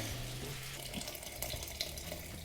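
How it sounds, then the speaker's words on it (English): Boiling hot water pours into a pot of borsch in a kitchen, a steady close splashing stream with a few brief clinks and surges over the continuous flow. "Now the hot water is boiling and it is going here."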